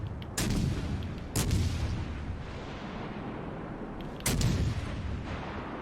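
Battleship main guns fire in World of Warships Legends aboard the US battleship USS Florida, three loud booming salvos staggered apart, each with a heavy low rumble that trails off into a sustained roar, with no talk.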